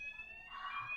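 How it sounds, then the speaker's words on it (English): A home fire alarm sounds steadily with piercing high electronic tones that swell louder in the second half, with no talk over it. "That's my fire alarm."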